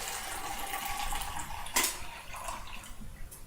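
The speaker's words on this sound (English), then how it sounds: "while I'm pouring, I might as well pour my 2 cups of water into my other clear cup" Two cups of water poured into a clear cup, a close, steady splashing trickle with a brief brighter splash midway and no talking.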